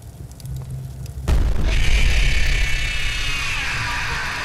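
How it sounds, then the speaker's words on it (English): Fire erupts in FNAF VR: Help Wanted after a button press: a low mechanical hum, then a sudden loud whoosh and boom into a sustained roaring, hissing blaze that slowly settles. "That's fire."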